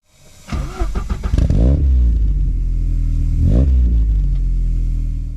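Ford Sierra Sapphire Cosworth, a 411 bhp car, cranking over and firing up, then a sharp rev before settling into a loud, steady, close-up idle.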